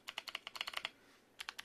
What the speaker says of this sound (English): There we have it guys, very clicky keyboard build with this one.